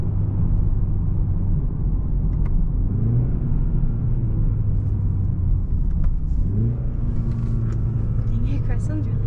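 Steady low engine rumble of a G20 BMW 330i on the move, with road noise from new tires underneath and voices talking faintly over it.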